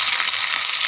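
Onions and spice paste frying in hot oil, a loud, dense, steady sizzle over a very short moment.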